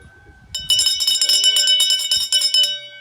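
A school hand bell rings rapidly and loudly for a couple of seconds after a brief quiet start, bright metallic clangs overlapping each other.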